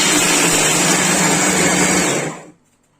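A Cecotec Mambo food processor chops dried fruit on turbo at speed 10, a loud close whirring roar that runs steadily for over two seconds and then cuts off abruptly into silence.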